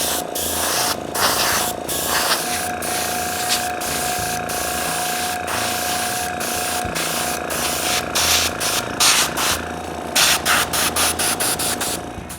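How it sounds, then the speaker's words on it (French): Varnish sprayed over a carved wooden engraving for a fireplace front plaque, a steady close hiss running continuously with brief pauses and a faint mechanical hum underneath, no voices. "c'est facile de mettre du vernis partout dans les milliers de petits trous de la gravure"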